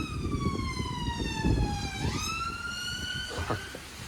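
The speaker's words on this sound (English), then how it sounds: "Oh, typical sirens for the area." A wailing siren sweeps up and down in pitch, steady and fairly loud, with a low rumbling background and no talking.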